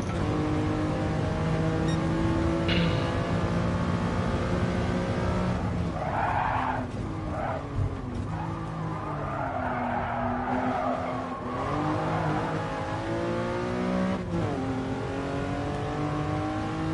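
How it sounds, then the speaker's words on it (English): Hard braking in a Lamborghini race in Gran Turismo Sport: loud, continuous engine drone drops in pitch while tires squeal and skid for several seconds, with steady racing engine noise throughout and no talking. "That was a good braking."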